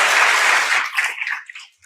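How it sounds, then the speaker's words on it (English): An audience at a community fall breakfast finishes clapping for the student panelists; dense applause thins into a few scattered claps and dies away to near silence. "Yes, give them all a big round of applause."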